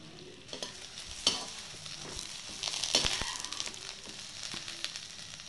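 Okra (ladies finger) frying in oil in a pan, a soft steady sizzle broken by several scrapes and clinks of stirring, fairly quiet and close, no talking.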